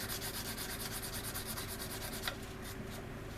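Resin model aircraft parts for a Globemaster kit are rubbed back and forth with sandpaper in quick, even, close strokes, a continuous scratchy rasp with no talking.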